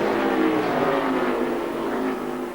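NASCAR Busch Series stock cars racing at Mexico City in 2005, a loud, sustained engine roar at high revs that holds steady and eases slightly near the end, with no voices over it.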